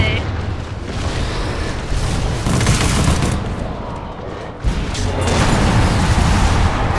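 Dense, continuous blasts and rumbling booms from rocket turret fire in the video game Monday Night Combat, forming a loud, unbroken wall of explosive noise with a brief dip midway.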